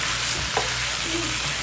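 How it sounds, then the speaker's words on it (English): Vegetables sauteing in a pan for Mediterranean chicken kabobs, a steady soft sizzle with a faint scrape of stirring, heard alone and fairly quiet. "So let's go ahead and add our vegetables. And we're just going to saute it all together."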